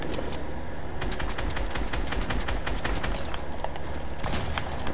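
Continuous rapid gunfire in a video game, dense automatic bursts and overlapping shots rattling loudly and steadily throughout with no pauses.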